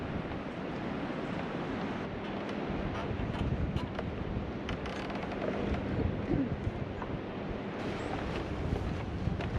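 Steady wind roars and buffets a microphone on a fenced bridge on the Caminito del Rey path, broadband and constant for the whole stretch, with faint rustling and no voices.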